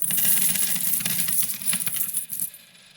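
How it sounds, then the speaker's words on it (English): A dense shower of coins clattering and jingling down continuously for a few seconds, bright and metallic, then thinning out and fading. "it's like a shower of coins raining down."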